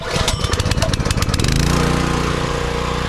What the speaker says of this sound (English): So flip it on, choke, tug.